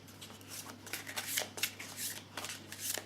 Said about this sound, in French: je vais tirer une carte de murmure de guérison